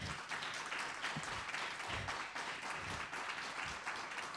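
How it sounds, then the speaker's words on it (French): Audience applause at a library book launch, a soft, steady wash of many hands clapping at a distance, continuous and fairly faint throughout. "je crois qu'on peut applaudir nos trois intervenantes"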